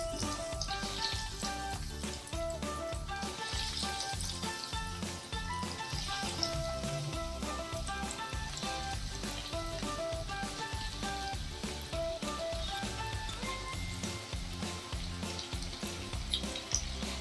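Onion rings dropped one at a time into hot oil, sizzling and frying with a steady, dense crackle that runs close and unbroken throughout, no voices over it.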